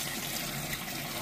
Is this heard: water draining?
yes